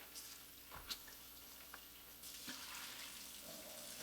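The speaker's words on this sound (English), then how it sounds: "Then we're just going to run water over them, like so, just to get off any excess dirt." Tap water runs in a steady, soft hiss, splashing lightly over vegetables in a sink, with a few faint knocks along the way.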